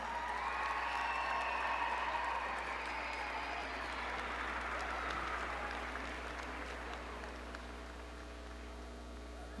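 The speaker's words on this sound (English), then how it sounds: "one final round of applause and a big thank you to all of these athletes who participated in today's" A large indoor crowd at the ACC track and field championship meet gives sustained applause for the athletes at the awards, a dense wash of clapping that fades slightly toward the end, with no clear talking.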